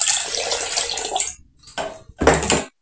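Water poured into a cooking pot for dal, a loud splashing stream that runs for over a second, pauses, then comes back in two shorter pours. No voices.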